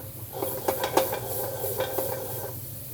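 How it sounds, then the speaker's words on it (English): Salmon fillets sear in a hot pan with a steady low sizzle, punctuated by several light scrapes and taps of a utensil against the pan, close and alone. "Sear the salmon first, then let the salmon cook."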